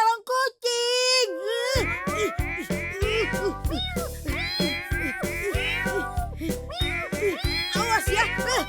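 A cartoon cat meows repeatedly in several rising and falling cries over busy music and sound effects, with a voice and other characters talking throughout.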